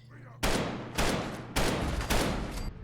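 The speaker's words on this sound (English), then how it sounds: "they really make this gun feel percussive when you shoot it" Gunshots from a weapon in Fallout 4: four heavy, punchy shots fired about half a second apart, each booming loudly and leaving a thick rumbling tail.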